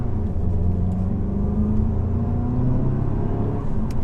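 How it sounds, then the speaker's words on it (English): Inside a VW GTI Autobahn edition driving in sport mode, a steady artificial engine drone is piped into the cabin, a low, even hum with slight rising pitch, constant and fairly loud. "But that's artificial sound, right? That sound, yeah. In sport mode, I think they call it the sound doctor. It's like pumped in engine noise."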